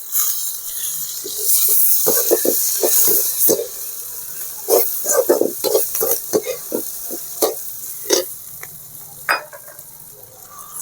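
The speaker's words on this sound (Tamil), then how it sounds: "நல்லா வதக்கி அப்படியே காந்தாமல் நல்லா வதக்கணும்" Curry leaves sautéing in hot oil for bottle gourd dal rasam: a close, steady sizzle broken by frequent crackling pops and spatters, with stirring scrapes in between.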